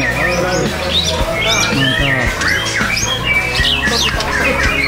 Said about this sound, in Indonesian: nama burung Rajawali ya Ronggolawe nama burungnya Ronggolawe